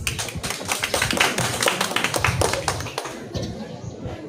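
Audience applause welcomes a finalist onstage at the STC 2022 grand final, a dense, steady patter of many hands clapping for about four seconds, with a voice faintly mixed in beneath.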